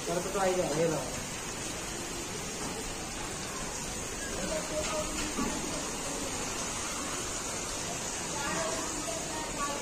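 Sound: heavy rain falling

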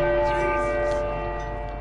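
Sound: bell ringing in Uncharted 4 video game

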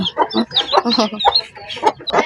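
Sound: mother hen clucking in coop

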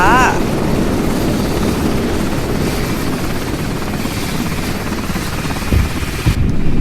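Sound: helicopter flying in Roblox horror video game

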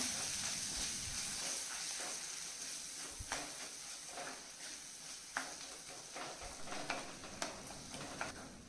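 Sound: tomatoes being mashed and sautéed on low flame

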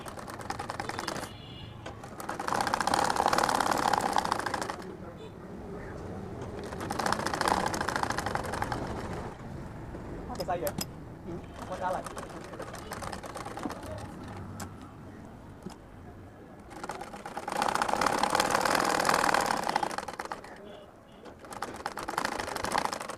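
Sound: sewing machine stitching an Arabian jubba pocket

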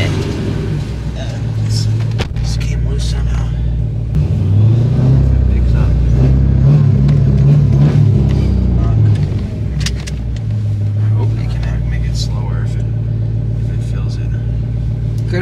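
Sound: 1000 HP Dodge Hellcat with exhaust leak

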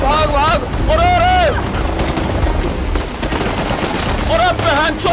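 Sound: gunfire in video game Uncharted: The Lost Legacy

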